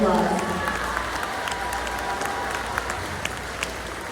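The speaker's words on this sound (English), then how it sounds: "Give them a round of applause." A middle school awards ceremony audience claps for the student council candidates, a broad roar of applause that starts strongest and settles into steady clapping, with a few voices and whoops mixed in.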